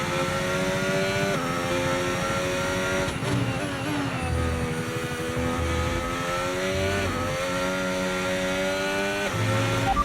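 A Formula 1 car in the F1 25 racing game accelerates hard through its gears, the high engine note climbing and dropping with each shift, loud and continuous throughout.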